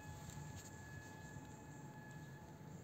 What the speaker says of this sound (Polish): Jedzie pociąg, jedzie.